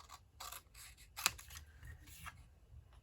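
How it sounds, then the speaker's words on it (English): Scissors cutting by hand through stamped card pieces, several short crisp snips and rasping strokes in an irregular rhythm, close and fairly quiet in an otherwise still room. "I can cut a couple of these at a time"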